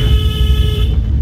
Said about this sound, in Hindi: हॉर्न दो यहाँ दबा के